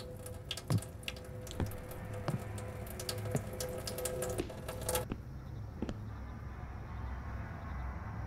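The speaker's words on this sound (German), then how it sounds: "Da war doch gerade das Geräusch von Wasser." Water runs and drips in the Summer of '58 video game, a steady watery hiss scattered with sharp dripping ticks that stops abruptly partway, leaving a quieter hum with a single late drip.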